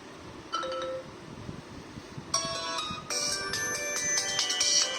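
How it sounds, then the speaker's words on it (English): Bright electronic ringtone melodies play from a Tecno Spark Power 2 smartphone speaker, switching to a different tune partway through, fairly loud with no talking. "let's play a few ringtones to check the sound quality"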